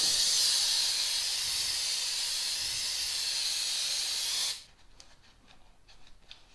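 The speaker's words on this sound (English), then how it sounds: "I'm going to spray this down, kind of get off this grind." A steady aerosol spray hisses loudly for several seconds onto junkyard engine parts to clean off grinding residue, then stops abruptly, leaving faint clicks and handling sounds.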